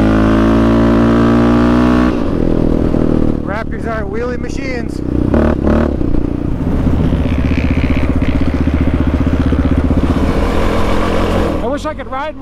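A Yamaha Raptor 700 and a Kawasaki KFX450R quad rev loudly nearby, engines droning and rising in pitch, while people talk over the steady motor noise.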